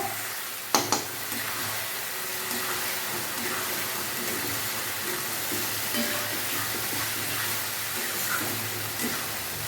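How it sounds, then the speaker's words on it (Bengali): Spices and turmeric powder sizzle in oil as the base for a chicken bhuna masala, a steady, even frying hiss with a brief clatter near the start. "দিয়ে এবার সমস্ত মশলাগুলোকে আমি ভাজবো"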